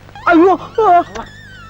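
A dog gives two drawn-out, rising-and-falling whimpers close by, each about a quarter second long, followed by a short faint yip.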